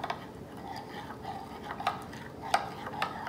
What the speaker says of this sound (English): I think that's enough stirring.